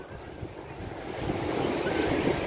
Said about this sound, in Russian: Поэтому никто не боится этих волн